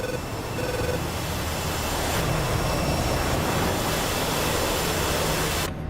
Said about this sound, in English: This is an F-16 Block 50C.